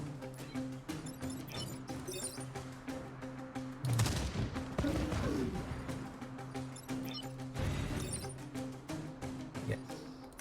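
Artillery attack in the video game Into the Breach, a turn-based strategy game, with a sudden loud blast that sustains a rumbling, crackling barrage over steady game music.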